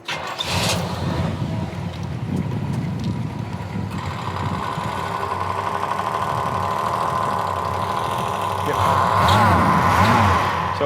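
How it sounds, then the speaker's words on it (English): A 1968 Pontiac GTO engine idles steadily nearby with its air-conditioning compressor running, a continuous low rumble with a faint added whine that swells near the end, while people talk over it. "The compressor makes a little bit of noise. I'm gonna go ahead and start that just to let you know."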